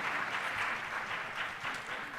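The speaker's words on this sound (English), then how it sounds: "If you would give them a round of applause." An audience at a high school all-county chorus concert applauds: a thick, steady wash of many hands clapping together, fairly loud and continuous with slight swells.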